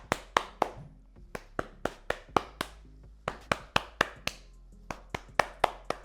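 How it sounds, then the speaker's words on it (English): Hands clap sharply against damp curly hair during a scrunching and fluffing styling routine: a steady run of about twenty crisp, close slaps at an uneven, brisk rhythm, heard alone with no talking. "I'm going to scrunch and clap and fluff out the crunch."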